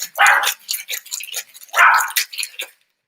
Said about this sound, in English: Thank you for your patience through puppy barking.